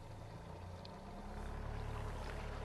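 A fishing boat's motor runs at anchor-setting speed on the water, a steady low hum that grows louder and heavier about halfway through.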